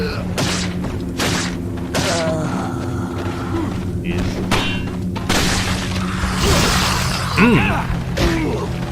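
A flashbang grenade goes off in Resident Evil 4 with a sharp shattering boom, followed by scattered thuds and game noises while someone talks over it.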